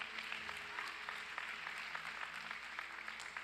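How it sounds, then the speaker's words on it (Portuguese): Steady applause from a church congregation, a dense patter of many hands clapping at a fairly even level throughout, somewhat distant. "Diga amém e dá um aplauso ao Senhor em nome do Senhor Jesus"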